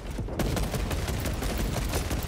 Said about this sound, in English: Oh, someone's shooting over there.